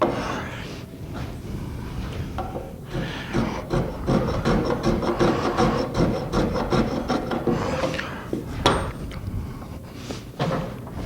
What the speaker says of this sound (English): If you're hand planing something like this, never go off the edge.